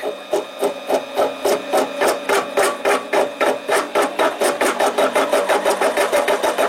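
A Harbor Freight 7x10 mini lathe on automatic feed cuts a cold-worked 304 stainless steel bolt, giving a loud, rapid, regular pulsing chatter with a steady mechanical whine underneath.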